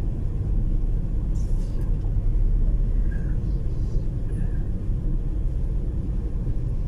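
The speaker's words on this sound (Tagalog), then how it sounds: "Medyo traffic dito sa Service Road ng Division Road mga kabiyahedor." Steady low rumble of road traffic in slow congestion on the Service Road of Division Road, Iloilo City, with engines idling and creeping close by, continuous and even throughout, with a faint voice briefly in the mix.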